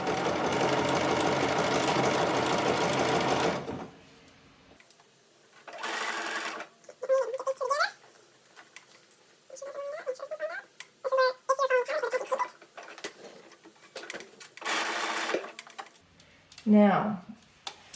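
A sewing machine stitches stretchy lace with rubber in it for lingerie, a loud steady run at first, then stopping while short bursts of stitching and a voice come and go.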